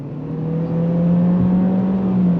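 A 2025 Chevrolet Equinox LT accelerates onto a highway, its engine holding a loud, steady hum that swells slightly under throttle, heard from inside the cabin with no voices.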